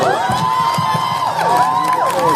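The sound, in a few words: audience applause and cheering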